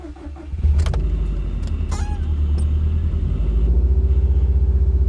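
A Subaru engine cranks briefly and catches, then settles into a steady, loud idle rumble right after a fuel filter assembly upgrade.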